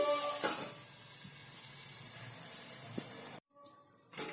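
Sliced onion with turmeric and spices sizzles in a pan, a steady close frying hiss that cuts out briefly near the end before resuming.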